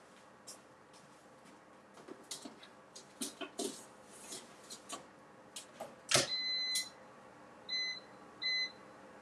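An air fryer is being set, first a series of clicks and taps from the controls, then a loud clunk and several short, bright electronic beeps in separate bursts.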